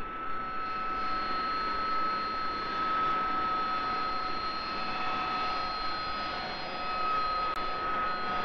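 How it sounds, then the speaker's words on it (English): An RAF Harrier jet taxis across a road into a narrow roadside lay-by, producing a steady, loud jet whine and broad roar that holds throughout without any voices. "Harrier number one taxis across and down a lay-by no wider than its wingtips"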